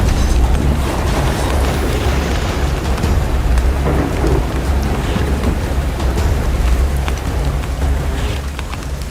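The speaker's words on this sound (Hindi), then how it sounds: "3 दिन बीत गए और पानी अभी भी बरस रहा था।" Heavy rain pours down steadily and loudly over flooded fields, with deep rolling thunder rumbling beneath the constant downpour, and no voices.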